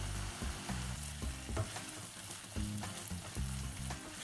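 Green peas and plenty of ginger frying in a pan for a dhaba-style cauliflower and potato dish, a continuous close sizzle broken by rhythmic scraping stirs.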